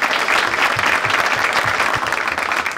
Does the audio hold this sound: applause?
yes